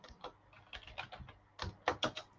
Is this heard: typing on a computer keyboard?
yes